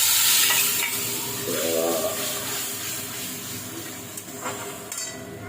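Spice masala sizzles in a frying pan with tomatoes and tomato sauce for a vegetarian young jackfruit and pointed gourd dish, stirred with scraping strokes over a close, steady frying hiss.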